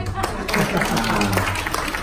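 An audience at a business seminar bursts into steady clapping for about two seconds, dense and fairly close, with a voice speaking over part of it.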